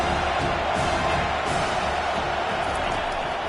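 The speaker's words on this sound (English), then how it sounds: "This crowd knows when to bring it." Stadium crowd in a Madden football video game, a broad steady roar of cheering and whoops sustained throughout, dense and distant-sounding with no clear single voice.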